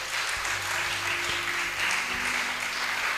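A church congregation at a Sunday service in Bandung, Indonesia, breaks into warm applause: a steady, dense wash of hand clapping that holds evenly for the whole stretch with no voices on top.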